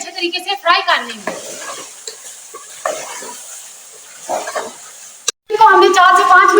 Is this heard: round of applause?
no